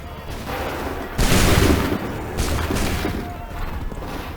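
A volley of musket fire from a line of soldiers in Assassin's Creed 3 bursts loudly, with a second, smaller crackle of shots following amid battlefield noise.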